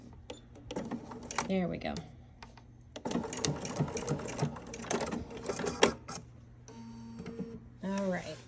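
Bernina 740 sewing machine backstitching at the end of an edgestitch on a skirt, rapid rhythmic whirring in short runs with pauses, close by, mixed with someone talking briefly.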